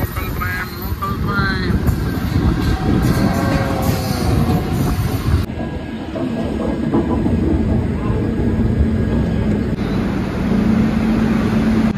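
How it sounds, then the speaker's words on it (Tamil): A local train rumbles and clatters past close by, wheels clacking steadily with occasional metallic squeals, and voices can be heard over the noise. "பார்த்தீங்கன்னா லோக்கல் ட்ரெயின்."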